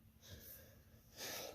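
Two short, breathy coughs close to the mic, a softer one first and a louder burst near the end, with no talking.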